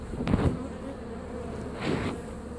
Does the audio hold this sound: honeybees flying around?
yes